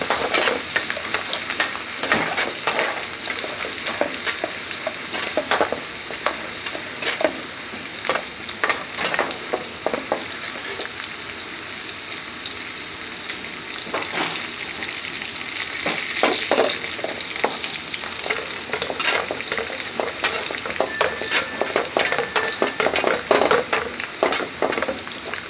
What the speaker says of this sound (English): Chopped garlic. Stirring nice and gently.